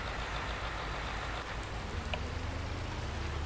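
Steady rain hiss from the Farming Simulator 19 sound engine, a constant broadband wash with a faint low engine rumble underneath, running throughout with no voices.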